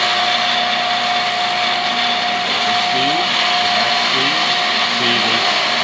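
Power coupler running steadily with a wood dowel spinning in it, a constant whirring motor hum with a faint tonal whine, close and continuous throughout, with some low rumbling underneath.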